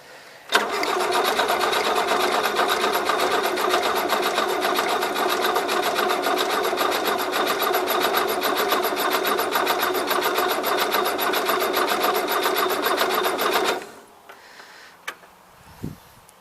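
A starter cranks the engine of a 1977 Gravely GMT 900 tractor: a loud, steady, rapid churning that runs for about thirteen seconds without catching, then cuts off, leaving a few faint clicks and knocks.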